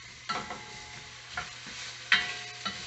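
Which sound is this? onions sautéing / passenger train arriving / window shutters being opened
onions sautéing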